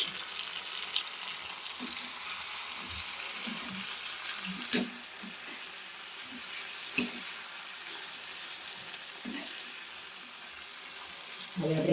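Turmeric and Kashmiri red chili fry in a pan for tomato rice, giving a steady close sizzle with a few sharp clinks of stirring scattered through it. A faint voice is present at times.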